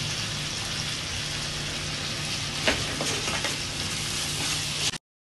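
Fish sambal masala sizzles steadily in a pan as it is stirred, a close crackling fry with a few scraping spoon strokes near the middle, cutting off abruptly at the end.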